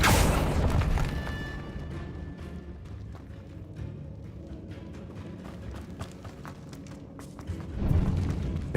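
A Bombarda blast spell from Hogwarts Legacy erupts as a loud, booming burst up front, then fades into a rumbling, crackling tail of debris and thuds, with a second heavy swell near the end.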